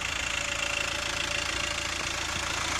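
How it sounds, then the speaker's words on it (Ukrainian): A 2002 Volkswagen Passat B5 facelift with a 1.9 turbodiesel idles close by, a steady, even diesel clatter with no roughness or misfire and no talk over it. "Ось так працює двигатель. Тобто не кабит, не дрожить, в нормальному стані."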